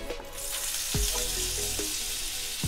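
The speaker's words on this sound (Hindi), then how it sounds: "बर्तन में मैंने थोड़ा ऑयल डाला है और मैं अब डालूंगी इसमें बटर" Butter dropped into hot oil in a pan for a butter garlic sweet potato dish, giving a steady broadband sizzle and frying hiss throughout with a few brief clinks, close and fairly loud, no talk.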